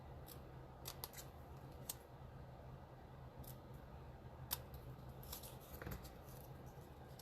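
Scissors snip a small paper birthday label for a card, producing faint, crisp cuts in short clusters against quiet room hiss, with no talking.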